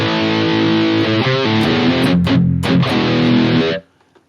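Loud, saturated high-gain electric guitar played through a live-use preset on a Fractal Audio FM9, a thick distorted riff with a few brief choppy stops, ending abruptly into silence.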